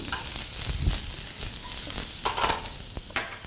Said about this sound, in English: When I have the shallots already cooking